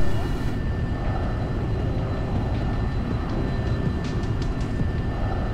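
A Viperjet jet aircraft in a flight simulator, a steady broad roaring engine rumble throughout with a faint high whine, while someone talks over it.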